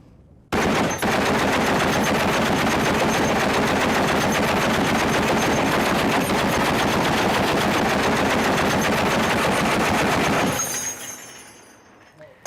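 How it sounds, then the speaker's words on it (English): An M2 .50 BMG heavy machine gun firing incendiary rounds outdoors, a sustained loud burst of rapid, evenly spaced shots lasting about ten seconds before cutting off into fading echo. "the MOD-Deuce just does not mess around. 50 BMG, nice medium rate of fire, very controllable"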